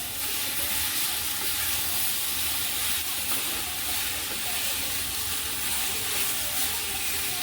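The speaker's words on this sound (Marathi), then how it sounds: "पाण्याचा एकही थेंब न घालता आपण ही कारली मस्त अशी वाफेवर शिजून घेणार आहोत" Bitter gourd steams in a pan over a low gas flame without added water, giving off a steady, even hiss that stays constant and fairly loud throughout with no talking.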